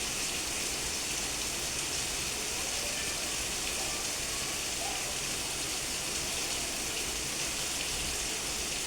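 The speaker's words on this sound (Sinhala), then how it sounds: "මේ අපේ ගෙදර මේ පැත්තට වහිනවා. හොඳටම වහිනවා සද්ද ඇහෙනවා ඇති සමහර විට." Heavy rain pouring down outside a house, a dense and steady hiss that stays even throughout with no breaks and no voices.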